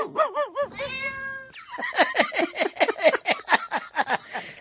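A cat gives a few drawn-out, wavering meows up close, followed by a person calling in a quick, repeated rhythm.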